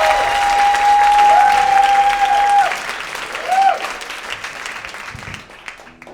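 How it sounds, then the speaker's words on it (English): A live comedy theater audience applauds loudly, a sustained burst of clapping that gradually fades, with a voice briefly heard over it. "Clap it up for Drew."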